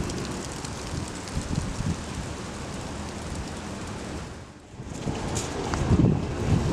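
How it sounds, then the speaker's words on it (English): Wind sweeps dead leaves along a sidewalk, a steady, dense rustling crackle that briefly dips near the middle before swelling again, with no voices. "The crackle of dead leaves dancing along the sidewalk as the wind pushes them."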